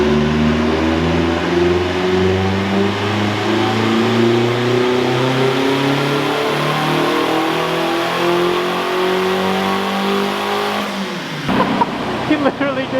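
Boosted Honda K20 engine in a Civic running on a dyno, a loud sustained rising roar as revs climb steadily for about eleven seconds, then cutting off abruptly into rattles and mechanical noise.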